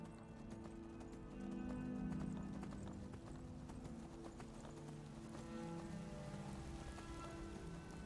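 Horse hooves clop in a steady rapid rhythm during riding in the video game Skyrim, with a continuous game soundscape beneath, fairly loud and with no talk.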